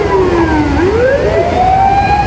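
Ambulance and fire truck sirens on a Japanese street, a loud wailing tone sweeping down and then rising again, continuous and close for the whole stretch, with no talking.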